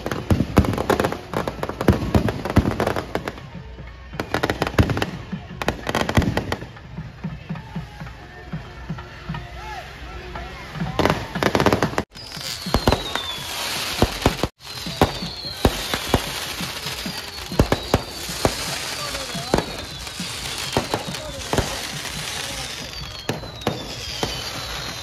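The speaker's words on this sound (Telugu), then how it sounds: "ఇంకా అయితే టపాసులు అయితే పేలుస్తున్నారు." Firecrackers and fireworks bursting at a temple float festival (teppotsavam) in Gandavaram, with dense rapid crackling bangs for the first stretch, then repeated whistling rockets rising and popping, loud and continuous with faint crowd voices.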